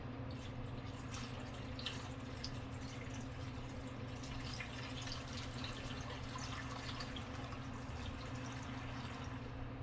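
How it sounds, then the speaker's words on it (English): Water running steadily into a full pot of cut apples, a continuous close pour with light splashing and no talk. "I'm going to add some water so it doesn't scorch."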